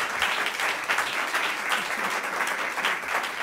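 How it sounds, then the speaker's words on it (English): An audience applauds panelists and a moderator at a colorectal health forum, a steady wash of many hands clapping at moderate volume throughout, with no one speaking over it. "So if we could just give our panelists and moderator one more round of applause."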